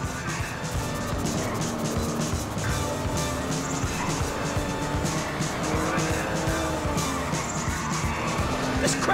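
Tires squeal and a car engine revs hard as a vehicle accelerates through city traffic in GTA 5, loud and continuous with skidding, other cars passing and a voice shouting over it.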